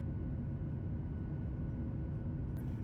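Steady broadband roar of a jet airliner cabin during the climb out of Las Vegas, with engine rumble heavy in the low end, constant and close throughout with no voices.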